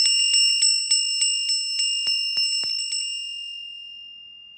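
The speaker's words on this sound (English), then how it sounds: "Okay, we're ringing the bell first." A bright metallic bell is struck about ten times in an even rhythm, each strike ringing briefly, then a sustained tone fades out alone.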